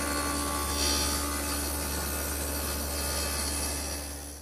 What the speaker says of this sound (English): I still have the stacked dado. I've just moved the fence slightly, and now I've brought my miter gauge in to hold the pieces as I push them through.